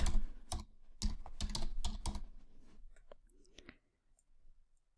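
Brand name being typed on a computer keyboard during logo design, a quick run of close, crisp key clicks in bursts that taper off into near silence with a few faint taps at the end.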